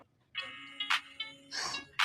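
A mobile phone plays a melodic electronic ringtone in short tonal phrases, close and moderately loud, with a few sharp noisy bursts in between and no speech.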